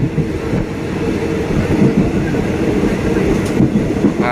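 Passenger train rolling along a rural line between Ratchaburi stations, a steady loud rumble of carriages with faint rhythmic wheel clatter and a brief squeal, continuous throughout without a break.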